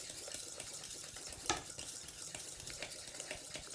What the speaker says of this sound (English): Also stir that in